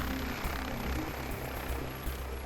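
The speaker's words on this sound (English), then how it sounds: "inching the helicopter down" A rescue helicopter sets down at a crash scene, its engine and rotors a steady, loud, broadband roar with a thumping low end that continues unbroken throughout.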